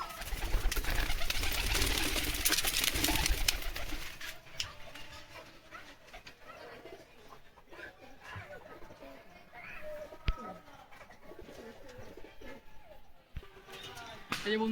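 Madras pigeons coo softly in a loft at Habra, their low repeated calls coming after a loud burst of noise at the start, with muffled voices and knocks in the background.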